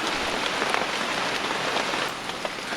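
Heavy rain pours steadily onto the Suriname rainforest, a dense, even hiss of drops close by with no pauses and no voices.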